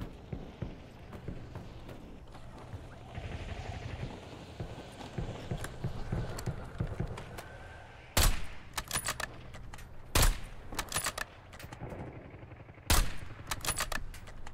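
Sharp bursts of rapid video game gunfire crack out several times over a low ambient rumble, with scattered footstep-like taps in between.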